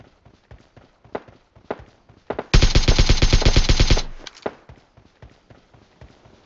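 Gunfire in the mobile game PUBG Mobile sounds as one loud, rapid burst of about a dozen evenly spaced shots lasting roughly a second and a half. Scattered lighter taps and footstep-like clicks come before and after the burst.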